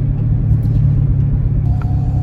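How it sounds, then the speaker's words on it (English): A car engine runs with a loud low rumble heard from inside the cabin, steady and close as the car prepares to set off for petrol, with no talking over it. "So we're in the car, we're about to go."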